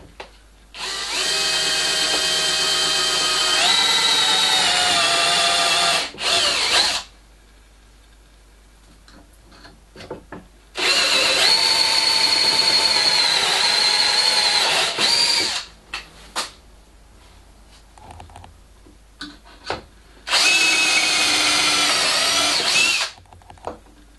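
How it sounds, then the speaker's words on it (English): A power drill whines loudly in three long bursts, pitch shifting as it bores into wood, with quiet pauses and small clicks between runs. "I drill the first part."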